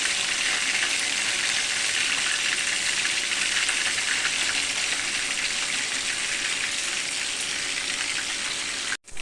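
Rohu fish pieces fry in hot oil, giving a loud, steady, dense sizzle that runs unbroken for several seconds before cutting off abruptly at the end.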